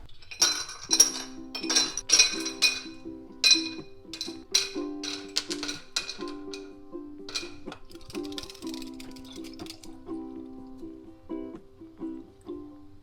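Ice cubes tumble and clink into an old glass pickle jar, a quick burst of bright chinks and rattles close up that thins to scattered taps before settling.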